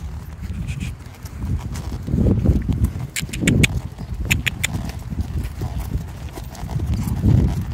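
A horse walks on firm ground, its hooves clip-clopping in a steady, close, moderately loud rhythm with faint rustling between steps.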